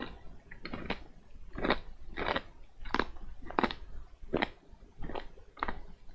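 Crunchy Hawkins Cheezies snacks are chewed close to the mic in about nine sharp, evenly spaced crunches. The crunches form a steady rhythm with quiet pauses between them.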